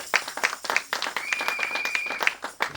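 A church congregation claps and applauds in praise during a French-language service, uneven hand claps scattered across the room at moderate volume, with a faint sustained tone in the background.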